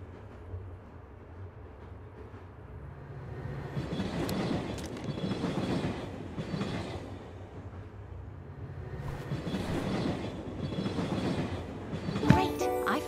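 Rumbling rolling of a moving train in the hidden-object game Murder in the Alps, rising and falling in waves with low wheel rumble, a faint rhythmic clatter and a sharp metallic squeal near the end.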